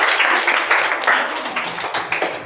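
Children applaud a student during a Hindi reading lesson, a short burst of uneven clapping from a group that stays fairly loud throughout.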